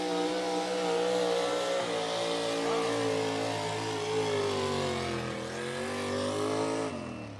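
A modified 4x4 pulling truck at an outlaw truck pull in Wisner, Nebraska, running rough and misfiring after losing a cylinder. Its loud, sustained, uneven roar holds steady for several seconds, dips and surges as the throttle is worked, then cuts off near the end.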